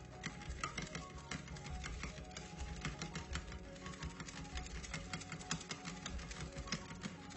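Curd being stirred with sugar in a bowl, making a steady run of soft ticking and clicking scrapes that continue at an even pace, close and moderately quiet.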